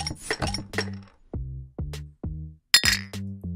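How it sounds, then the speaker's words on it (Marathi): Glass bottles clink together in a toast: a series of sharp, ringing taps, each fading quickly, sounding close and clear, with no voices. "दोघांनी चिअर्स करत त्या बाटल्या सरळ तोंडाला लावल्या"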